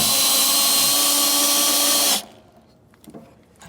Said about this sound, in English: we'll get this drilled out and drill through the frame rail